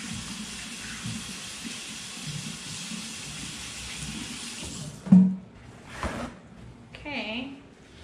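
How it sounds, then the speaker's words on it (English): A kitchen tap runs steadily while hands are washed beneath it in a home kitchen, a broad close hiss of water, followed by the tap shutting off and a few clunks and a short voice-like sound at the end. "Let me wash my hands"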